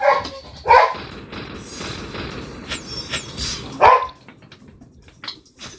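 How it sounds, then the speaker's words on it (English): A pet dog barks a few sharp times near the microphone, with a bark at the start and another about three seconds later, over a low background of room noise and faint game sound. "That's my dog."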